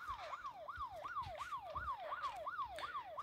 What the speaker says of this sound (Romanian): Am pornit sirenele pentru că să ajungem mai repede